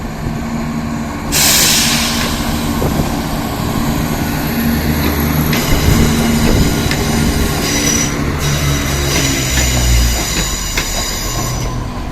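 Inside a moving diesel Turbostar train in Birmingham, slowly accelerating: a constant low engine drone and rolling rumble, with a burst of air hiss and high metallic whines rising over it.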